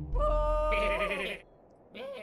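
A goat in the video game Goat Simulator lets out a loud, close, wavering bleat, followed after a short pause by a second, briefer bleat.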